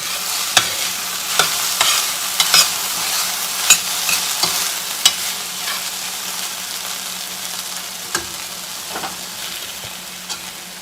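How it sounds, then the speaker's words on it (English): Vegetables sizzle steadily in a hot frying pan, with sharp clicks of a utensil stirring and scraping at irregular intervals. "You hear that sizzle going on?"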